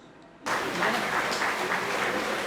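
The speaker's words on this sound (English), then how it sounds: "Let's see a little more enthusiasm and spirit in your applause, dear audience." An audience at a printmaking workshop opening ceremony in India breaks into applause after a brief quiet moment, a sustained patter of many hands clapping at moderate distance that carries on evenly to the end.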